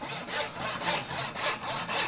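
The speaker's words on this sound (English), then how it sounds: "I can slowly bring my saw back up this way" Hand saw cutting wood for a mortise and tenon joint, about four close, even rasping strokes in a slow steady rhythm, heard on its own.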